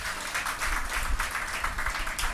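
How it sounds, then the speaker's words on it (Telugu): An audience at a church gathering breaks into steady, fairly loud clapping that fills the room without pause. "చప్పట్లు కొడదాం ఒకసారి."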